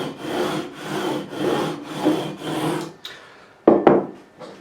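Sandpaper mounted on a radius bar rubs back and forth along a guitar fretboard on an Ibanez Gio GRGR121EX, giving five even, rhythmic rasping strokes, then a pause and a couple of sharper scrapes.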